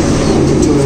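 Pigeons in a crowded loft coo in a dense, continuous low burble, loud and close, with no gaps.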